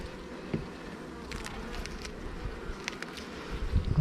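Calm honey bees hum softly at an open hive during a nectar dearth, a steady low buzz with occasional individual bees droning closer past the microphone.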